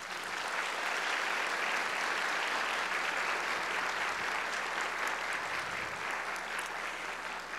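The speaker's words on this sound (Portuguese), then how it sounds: "Queria pedir aqui uma salva de palmas para os meninos." An audience at a corporate culture presentation claps continuously, a dense, even wash of applause that holds steady from start to finish without pause.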